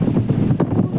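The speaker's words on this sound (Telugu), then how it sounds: "అబ్బా గాలి సౌండ్" A strong wind blows just before rain, roaring in loud, close gusts against the microphone with a steady rumbling rush.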